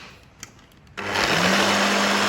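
After a short quiet with a faint click, a food processor starts abruptly and runs at a steady high whir, blending a fish marinade of cumin, salt, lime and vinegar, loud and close.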